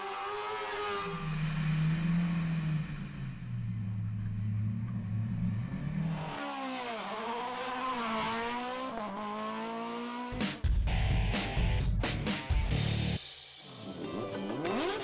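Rally cars at the Rally Ciutat de Gandia race along a winding stage, engines loud and close, revving and rising in pitch through gear changes, with sharp bursts of acceleration and tire noise as they pass.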